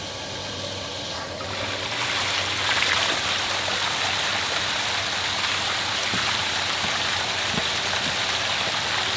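Water from two hoses gushes against a flood bag in a loud, continuous rushing wash that swells slightly after the first second and holds steady.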